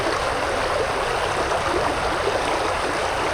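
Loud, steady rushing and splashing of flowing water in the crafting game Vintage Story, a continuous broadband wash heard alone with no voices.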